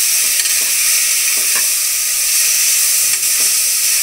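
Tomatoes frying in a pan for egg biryani: a loud, dense, unbroken sizzle up close, with a few soft stirring scrapes beneath it and no speech.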